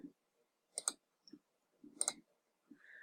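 Computer mouse clicks in quiet surroundings while working through accounting report settings: about five short, crisp clicks, single and paired, spaced irregularly and close, with silence between them.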